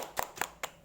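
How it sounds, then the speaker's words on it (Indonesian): A few people in an audience clap for a presenter at a training session, giving three sharp, quiet, close claps spaced about a fifth of a second apart, with no talking. "Tepuk tangan untuk Ibu Fitri."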